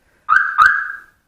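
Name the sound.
car alarm triggered on a smart car security system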